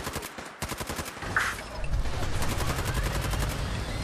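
A minigun in the Fallout 4 video game spins up and fires a rapid, continuous stream of shots. The steady, buzzing automatic rattle is loud and sustained, with no voices over it.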